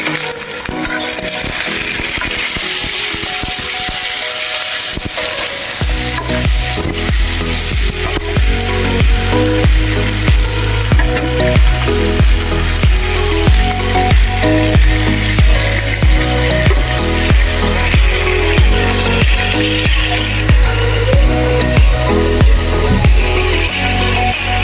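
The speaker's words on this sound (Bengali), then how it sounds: "এবার তেলটা গরম হয়ে গেছে, প্রথমে পটলটা ভেজে নেব" Pointed gourd (potol) fries in hot oil with a steady, loud sizzle and crackle that continues throughout, alongside stirring and scraping sounds.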